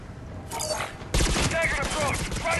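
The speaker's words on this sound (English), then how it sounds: "I am using the Geth pulse rifle yet again." Geth pulse rifle firing in Mass Effect 3, rapid sustained bursts of energy shots amid game combat sounds, loud and continuous after a brief opening volley.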